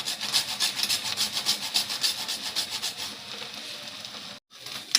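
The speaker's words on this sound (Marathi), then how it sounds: "आणि याच्यामध्ये मी आता जायफळ किसून टाकते." A whole nutmeg is grated by hand for Maharashtrian puran poli, making quick, rhythmic, close scratching strokes that run evenly before a brief pause and a final scrape.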